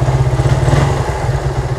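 A Suzuki Satria FU motorcycle fitted with an RX King carburetor idles steadily up close, its engine thrumming in an even, slightly uneven-pulsed putter, fairly loud, with no speech.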